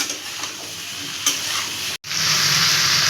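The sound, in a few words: stirring vegetables with turmeric in a frying pan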